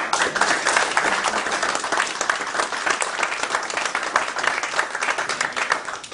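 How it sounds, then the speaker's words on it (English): An audience gives a dense, steady round of applause for Matt Barkes, CEO, at a UK introduction event for ISN Coins, with many hands clapping evenly for about six seconds and no talking. "So can we give a good round of applause to Matt Barkas?"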